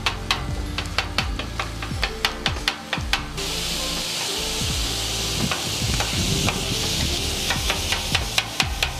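Cajun turkey sizzles loudly on a flat grill while a metal spatula chops it, sharp rhythmic clacks repeating over a steady hiss of frying oil that swells midway.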